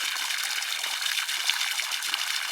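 Water from a hose gushes steadily into an empty, dry pond bed to fill it, a continuous bright splashing and trickling rush that stays even and close throughout.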